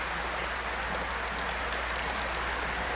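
City water trickles into a koi pond filtration system in Japan, making a continuous, even rush of running water that stays close and steady throughout.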